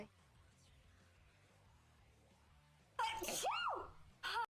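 A single loud, close sneeze bursting out after a few seconds of near silence, followed by a brief short sound right after.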